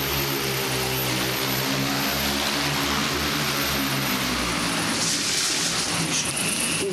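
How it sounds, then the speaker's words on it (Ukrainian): A heavy hexacopter drone roars close by as it lands at night, its propellers droning loudly and steadily with a strong buzzing hum that shifts slightly near the end. "Зліт та посадка – найнебезпечніші моменти у роботі з цим дроном"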